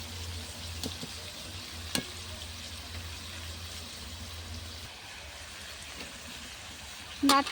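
Vegetables and cauliflower stalks frying in a covered pot on a clay stove give a faint, steady sizzle with occasional clicks. It ends in a brief, louder scrape.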